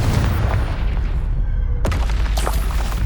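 Confringo explosion spell in the Hogwarts Legacy video game, with a dense booming blast and a sharp crack near the middle amid a loud, continuous rumble of game effects.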